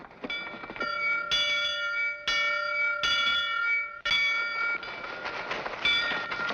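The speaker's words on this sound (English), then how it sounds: "People usually head for the meeting house when the bell tolls, not run from it." A meeting house bell tolls repeatedly, each loud ringing strike with bright overtones followed by a short decay before the next, about once a second, close and clear with background clatter.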